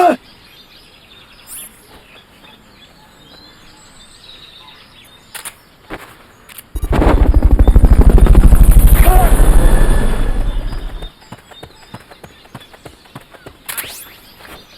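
The Fulton recovery helicopter in the video game Metal Gear Solid: Peace Walker gives a loud, rushing rotor roar that swells and holds for about four seconds, set among quieter game effects and brief chirps.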